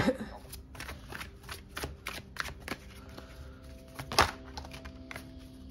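Tarot cards are shuffled and drawn close up, with quick crisp riffles and soft slaps of cards landing in a steady run, plus one sharper snap partway through.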